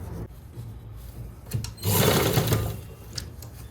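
A sewing machine stitches a ready-to-wear saree with a belt, a short whirring run of rapid needle strokes that swells loudly in the middle, set between quieter handling clicks and rustles of cloth.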